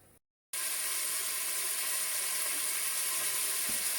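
Harira ingredients browning with spices in a Cookeo multicooker give off a steady, close, bright sizzle that starts abruptly after a brief silence and keeps going evenly to the end.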